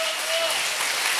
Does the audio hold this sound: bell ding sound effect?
no